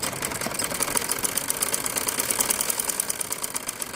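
A sewing machine stitches fabric, a steady rapid mechanical chatter running evenly and close for the whole stretch, with no talk.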